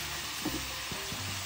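Hot oil sizzles and bubbles steadily in a pan as food fries, a continuous close hiss with a few soft knocks and stirring sounds.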